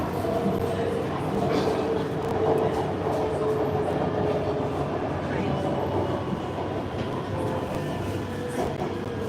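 Steady rumble of a train ride in Bangkok, continuous and fairly loud throughout, with wheel and carriage noise and faint voices in the background.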